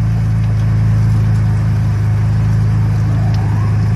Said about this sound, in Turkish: Şimdi aracı kısa bir süreliğine çalıştırdık su gelsin diye.